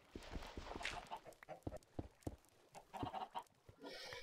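Chickens in Minecraft cluck and squawk in scattered short bursts, several birds close together with uneven rhythm and no talk over them.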